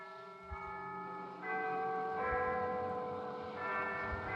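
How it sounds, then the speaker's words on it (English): Church bells ring from a cathedral in a city square, several bells sounding in succession with long overlapping hum and decay, steady and moderately loud with no voices. "Old Spider's senses ring a tingle in a way like those bells."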